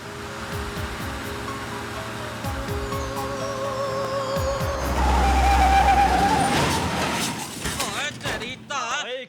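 A car driven badly skids and surges, with engine noise, a squealing tyre slide and a heavy rumbling swell in the middle, under bursts of talk and background music.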